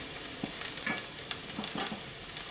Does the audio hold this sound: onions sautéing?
yes